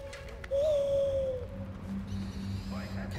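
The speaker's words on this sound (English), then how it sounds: "Calling in the bird." An owl companion in the video game Far Cry Primal answers a call with a drawn-out hoot-like cry, followed by a lower tone and faint game ambience.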